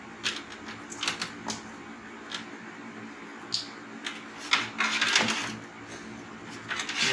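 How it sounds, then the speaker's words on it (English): Prying the plastic back cover off a Samsung TV makes a scattered series of sharp clicks, snaps and creaks from the plastic, close by and irregular, against a quiet hiss. "Now I am taking its back cover off."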